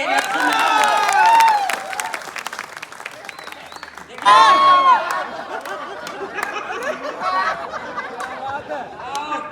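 An audience at a Hindi poetry gathering (kavi sammelan) breaks into bursts of clapping, with laughter and chatter running through it and a loud voice carrying over the crowd.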